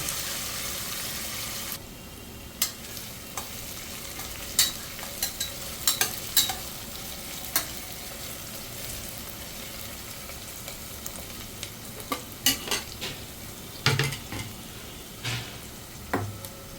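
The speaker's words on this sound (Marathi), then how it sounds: "कांदा सुद्धा 5 ते 10 मिनिटं कमी गॅसवर व्यवस्थित परतून घ्यायचा आहे" Onion for khichdi sautés in a pan over a low flame, a soft, even sizzle broken by scattered clicks and scrapes of stirring.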